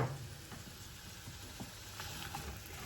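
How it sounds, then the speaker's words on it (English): Onions sizzle steadily in melted butter in a non-stick skillet, a close, continuous frying hiss with a few soft clicks and shifts of food, no talking. "I've got a couple of tablespoons of butter melting in a non-stick skillet. So let's put our onions in there."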